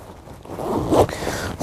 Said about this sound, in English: having to bend down and zipper everything up